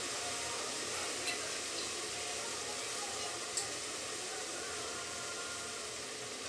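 Urad dal and onions fry in a pan with a steady, close sizzling hiss throughout, broken by a couple of faint scrapes from stirring.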